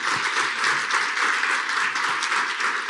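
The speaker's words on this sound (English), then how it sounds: "They just don't want to stop clapping" Steady, sustained applause from a seated audience at an early childhood education event, many hands clapping evenly and continuously at moderate loudness, with no talking over it.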